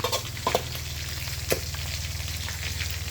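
Crab frying in a pan, a steady dense sizzle with a few sharp pops and spatters, continuous and close, with no one speaking.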